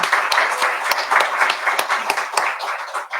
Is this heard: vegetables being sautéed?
no